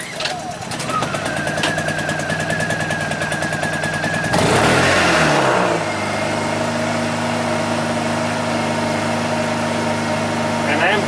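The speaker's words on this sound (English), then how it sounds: "And start it up." A Honda EU2000i inverter generator fitted with a dual fuel tank cranks with a rapid rattling burst, then catches and settles into a steady, close, droning run with a constant engine hum.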